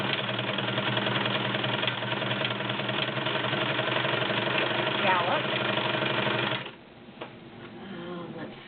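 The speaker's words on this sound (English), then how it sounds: "Right now it's set on a scallop, so I'll just go ahead and sew the scallop for you." A Brother model 2010 sewing machine stitches a decorative scallop pattern, giving a steady close mechanical whirr that runs evenly for several seconds before cutting off into quieter handling noise.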